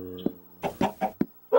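A chicken in the video game Minecraft gives a series of close, separate clucks, about five short bursts spaced irregularly over under two seconds, alone with no talk.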